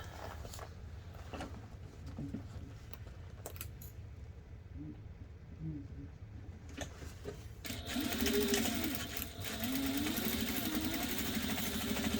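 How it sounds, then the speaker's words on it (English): Sewing machine stitching a bag seam end to end with a half-inch seam allowance, a low continuous motor hum that grows louder and busier as the stitching speeds up toward the end, with no talking. "now you just want to stitch from end to end on both sides with a 1/2 inch seam allowance"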